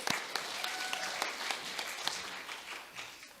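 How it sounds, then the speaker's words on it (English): Audience at a middle school awards ceremony claps for science award winners: a light, fairly distant patter of individual hand claps with a few sharper ones, tapering off toward the end. "Let's give them a round of applause."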